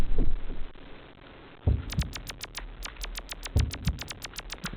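Heartbeat sound effect from the video game Yume 2kki: low, soft paired thumps in a slow, steady rhythm over a faint electronic hum, joined by a run of sharp high ticks in the second half.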